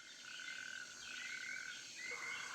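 A male marbled poison frog calls in long, steady trilling bursts amid a humid night chorus of insects on Colombia's coast, clear and fairly close.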